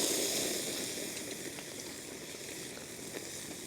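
Ribeye steak sizzling as it sears on a hot grill, a steady broadband hiss and crackle with faint pops running throughout, close and continuous with no talk.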